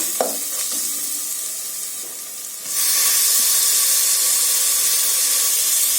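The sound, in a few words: mint sautéing in pan with ginger garlic paste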